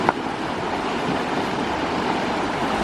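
A strong river current rushes in a steady, loud roar of flowing water, close by and continuous, with no talk.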